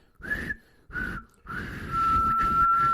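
A person whistles by sucking air inward, giving two short breathy inhaled notes and then a longer steady single-tone whistle, close and fairly loud.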